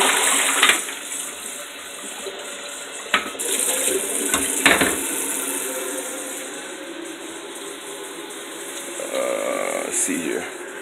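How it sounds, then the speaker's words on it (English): Running water rinses out a kitchen container during baking, a steady close gush with a few brief clinks and knocks against it. "And I got to wash this out."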